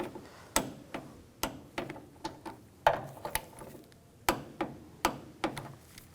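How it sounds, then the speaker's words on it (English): Torque wrench clicking on hood hinge bolts of a 2011-2018 Volkswagen Jetta 2.0L: a series of sharp, close metallic clicks and ratchet ticks in an irregular rhythm, with faint handling noise between them and no talk. "And torque these to 16 foot-pounds."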